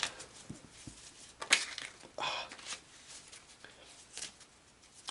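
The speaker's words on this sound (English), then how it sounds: "Shuffle these cards so they're ready to rock and roll." A deck of cards is shuffled during a tabletop football game, giving a few quick riffling bursts and soft patters at close range in a quiet room, with no talking.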